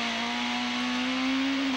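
Super touring cars race at Amaroo Park, a loud sustained engine note holding steady and rising slightly as the driver fights wheel spin while trying to put power down, with no talk over it.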